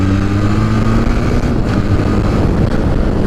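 A Benelli TRK502, a 500cc motorcycle, rides along in first gear on city roads: a steady low engine drone with firm harmonics, heard close and continuous under buffeting wind noise, with no talk.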